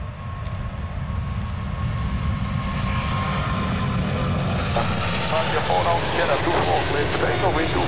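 A jet airliner takes off from a runway, its engine roar loud and steady throughout, rising in pitch, with brief radio transmissions from air traffic control faintly heard over it.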